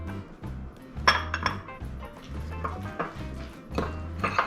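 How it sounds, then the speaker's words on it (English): Ingredients stirred in a kitchen mixing bowl, a utensil clinking and scraping against the sides in a steady, close rhythm of repeated taps. "Then we're going to give all of this a stir."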